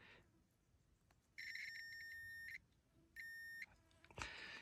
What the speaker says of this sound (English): So hear that beep.